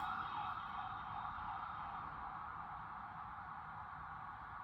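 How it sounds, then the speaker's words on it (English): An ambulance siren on a New York City street, a steady wailing tone sounding faint and distant, continuous with no talk over it. "I have ambulances going all the time around here."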